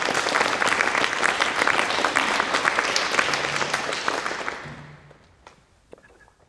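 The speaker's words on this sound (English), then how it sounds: "Let's give Charlie a round of applause." Loud audience applause fills the room, dense clapping that holds steady for several seconds, then tapers off and fades to near silence.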